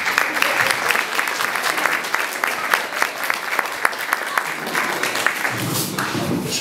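A concert crowd at a November 11 Independence centenary celebration in Mierzeszyn claps loudly for the local association chairman, a dense, sustained round of applause with a faint voice beginning near the end.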